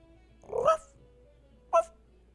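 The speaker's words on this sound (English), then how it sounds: "so this is the pup that Rakontai's been hiding" A pup in the video game Final Fantasy XIV gives two short yelping barks, the first longer and the second brief, heard clearly over a quiet background.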